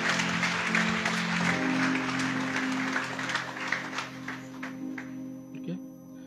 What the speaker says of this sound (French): Laisse-nous applaudir le grand Saint-Esprit